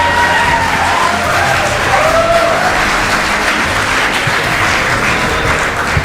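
Steady, dense applause from an audience at a spiritual discourse by Avinash Bharti Maharaj, a continuous loud wash of clapping filling the whole stretch with no pauses.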